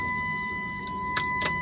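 A car engine running at idle gives a steady low rumble with a faint constant tonal whine, broken by two brief clicks near the end.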